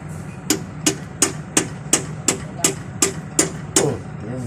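Ten sharp hammer blows ring out at an even, steady pace during repair work on a bearing, each strike loud and close, with a low engine-like hum running underneath.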